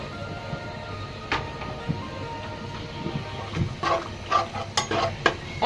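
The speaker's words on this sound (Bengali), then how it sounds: "এখন আমি মশলাটা হালকা কষিয়ে নেব" Cumin, garlic and ginger pastes fry lightly in a pan, a low sizzle broken by intermittent scraping and clinking stirs that grow busier toward the end, no voices.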